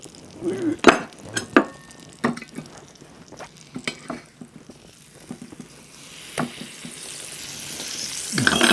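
Beef steak frying in a pan with garlic and bay, a steady sizzle under a series of sharp metallic knocks and scrapes of a utensil against the pan, the hiss swelling louder toward the end.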